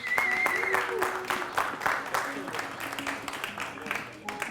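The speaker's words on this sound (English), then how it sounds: "Give yourselves a big round of applause." A conference crowd at an ICO pitch event claps in a loose, moderate round of applause, individual claps audible as the sound thins out, while a voice talks over the top.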